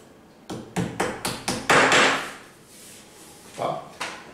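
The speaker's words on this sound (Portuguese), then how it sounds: "Você vai encaixar a buchinha aqui no buraco e vai bater com o martelo" A plastic wall plug is tapped with a hammer into a drilled hole in a tiled wall: a run of about six sharp, close, evenly spaced knocks, then two more after a pause.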